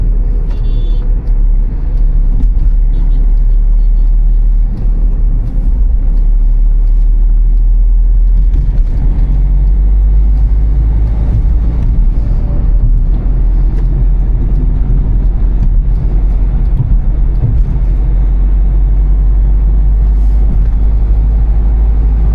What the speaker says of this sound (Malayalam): Turbo diesel engine.